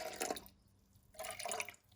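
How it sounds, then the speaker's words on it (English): Water swirls around inside an emptied tin of tomatoes, two short sloshing bursts with a brief pause between them, close up and fairly quiet. "Always swirl out these tins of tomatoes"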